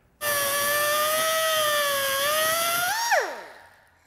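A high-pitched rotary cutting tool trims a throttle cable, whining steadily and close for about three seconds before spinning down.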